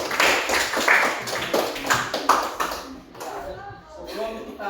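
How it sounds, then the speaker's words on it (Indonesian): Schoolchildren in an Indonesian classroom clap for group 2, a scattered burst of hand claps for about three seconds that fades as a voice begins speaking. "Oke, tepuk tangan untuk kelompok 2."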